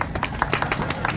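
A small group claps in short uneven bursts, close and fairly loud, in a classroom-style session for a Bihar police exam discussion, with no talking over it.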